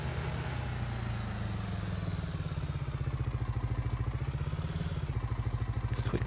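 A Mahindra pickup truck's engine drones close by as it drives across farm fields, a steady rhythmic throbbing chug that holds level, with a faint rattle near the end.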